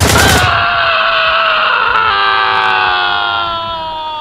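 A sharp, loud gunshot blast opens the clip, followed by a long ringing, metallic tone that slowly fades over several seconds.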